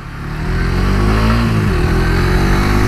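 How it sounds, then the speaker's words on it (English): A 2018 Suzuki GSXR125 motorcycle's small 125 cc engine revs up close, rising into a loud, sustained buzzing drone that holds steady for a few seconds. "the little engine on this bike is absolutely brilliant"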